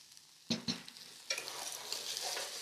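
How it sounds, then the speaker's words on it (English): Lentils stirred in a pan with tomato paste, onions and spices, a few sharp scrapes and clacks of the utensil over a soft, quiet sizzle. "I'm just going to stir it up."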